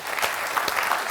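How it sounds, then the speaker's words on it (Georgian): A studio audience at a comedy game show breaks into steady, dense applause, an even wash of clapping heard up close for about a second with no voices over it. "ერთი კაი აპლოდისმენტები"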